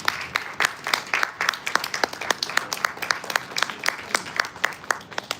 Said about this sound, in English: Ladies, let's give our applause to Miss Cheriza Esparago.